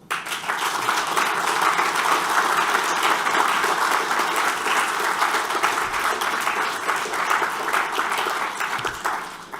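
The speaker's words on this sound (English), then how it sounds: "So I think you deserve a great applause." An audience at a political forum breaks into sustained applause, with dense, even clapping that carries on for several seconds before it fades.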